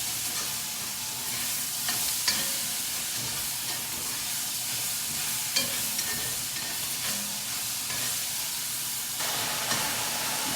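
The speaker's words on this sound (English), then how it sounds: "your stir frying process is done" Steady sizzling and hissing of chow mein noodles stir-frying in a hot pan, with occasional soft clinks of stirring, continuous throughout and fairly close.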